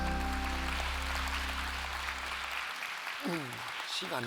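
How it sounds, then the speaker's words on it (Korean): Congregation applause during a church sermon service, a broad wash of clapping over a sustained organ-like tone that cuts off, with a voice starting to speak near the end. "영광의 박수 돌립니다"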